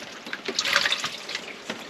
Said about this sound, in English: pour it into the cheesecloth, and then you just squeeze it out